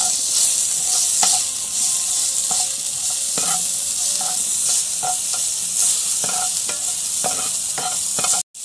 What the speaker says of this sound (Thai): ใส่กระเทียมลงไปผัดนะครับ